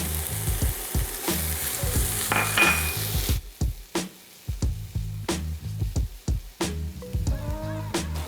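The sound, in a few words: ginger garlic paste frying in a pan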